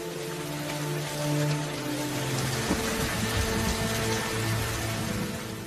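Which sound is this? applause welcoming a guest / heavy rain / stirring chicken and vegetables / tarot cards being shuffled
heavy rain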